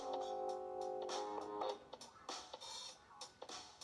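A woodpecker pecks with a few sharp, irregular taps and short bursts of knocking, preceded by a brief tonal bird call, all fairly close and moderately loud.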